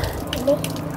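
Water runs steadily from a tap during the cleaning of a 1 HP Panasonic air conditioner, a short continuous splash with a brief voice over it.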